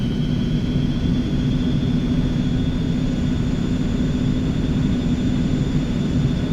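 Aircraft engine in the X-Plane 11 flight simulator while taxiing, a loud continuous drone with a steady whine running through it, close and unchanging, no voices.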